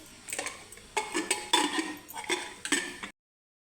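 Metal clanks and clinks of a pressure cooker lid being handled and fitted on, several sharp close knocks in quick succession, with no talking.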